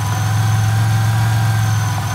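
Ford car engine idling loudly and steadily up close before a burnout, a constant low rumble with a droning hum and no voices.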